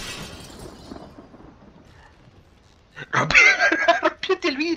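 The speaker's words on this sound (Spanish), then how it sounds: "Chapulín, rompiste el vidrio." Glass shatters in GTA V, a loud broadband crash followed by scattered tinkling and clattering after a quieter stretch of murmured speech and game ambience.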